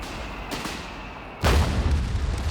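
Machine gun fire in a World War II real-time strategy game, with faint distant rattling at first, then a loud heavy burst with booming low rumble that carries on to the end.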